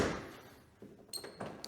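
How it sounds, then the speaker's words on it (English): A 1979 VW Super Beetle door being closed, giving a soft thunk followed by a second muted latch knock, quiet and close by. "You can see when we close the door, it opens and closes perfectly."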